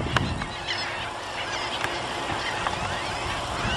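A flock of gulls calls loudly and continuously, overlapping raucous squawks close by over a steady background rush.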